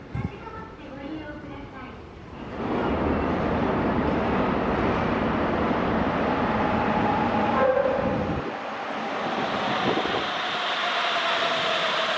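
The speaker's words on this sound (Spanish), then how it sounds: "La línea Tōsai tiene exclusivamente estos trenes de serie 8000" A rubber-tyred series 8000 subway train rumbles into Odori station on the Tōsai line of the Sapporo metro, Japan, its steady roar filling the space for several seconds before easing, with a brief high tone partway through.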